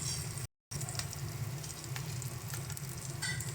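Spice paste with turmeric, salt and Kashmiri red chilli powder sizzles steadily in a pan for a pomfret mustard-poppy curry, a continuous close frying hiss with faint stirring scrapes, briefly cut by a short gap of silence.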